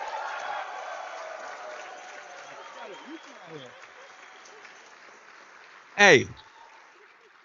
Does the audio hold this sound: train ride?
no